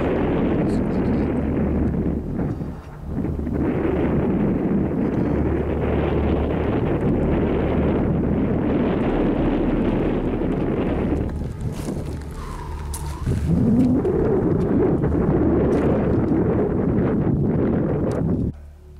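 Strong wind gusts buffeting the microphone on an exposed mountain trail in the Vallon de la Roudoule, a loud continuous roar with low rumbling that drops briefly and surges again; faint voices are heard under the wind.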